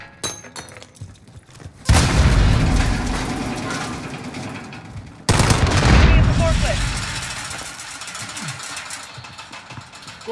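Call of Duty: Modern Warfare team deathmatch combat: a frag grenade explosion booms loudly, another blast follows a few seconds later, and gunfire rattles throughout, with brief shouted voice lines from in-game soldiers.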